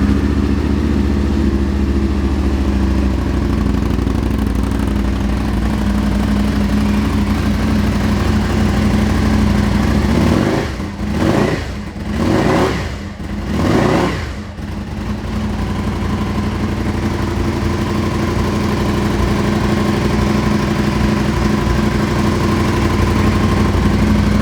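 A 2007 Aprilia Tuono 1000 Factory V-twin motorcycle idles loudly and steadily up close, the engine blipped in three quick revs midway before settling back into its lumpy, continuous idle.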